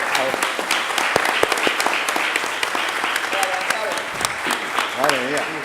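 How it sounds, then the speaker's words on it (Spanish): Audience claps loudly and continuously for trophy winners at a retro arcade and gaming event, dense close applause with scattered voices and cheers mixed in. "Así que un fuerte aplauso porque se llevan a llevar el trofeo."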